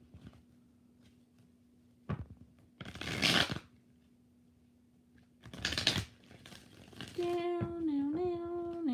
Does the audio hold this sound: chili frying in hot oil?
no